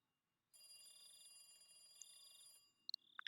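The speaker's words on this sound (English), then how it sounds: "The phone was still ringing." A telephone rings in a Higurashi When They Cry game scene, a steady electronic bell tone lasting about two seconds, then a few sharp clicks after it stops.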